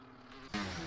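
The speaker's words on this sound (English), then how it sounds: "I'm being attacked by a mosquito" A brief, thin insect whine buzzes faintly nearby, rising slightly in loudness partway through.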